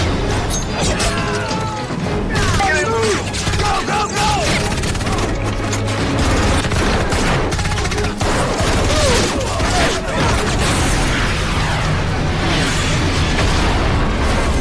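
Loud, dense action mix with bursts of gunfire and heavy explosive crashes, continuous and chaotic throughout, with shouting voices in the mix.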